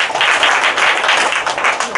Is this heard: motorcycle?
no